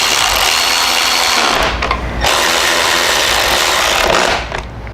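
Power tool whirring steadily as bolts are driven back into a car dashboard vent, loud and close, with a short pause near the middle before it winds down.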